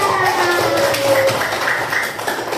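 A group of children in a classroom claps their hands in a quick run of taps, close and fairly loud, with faint tones and chatter behind.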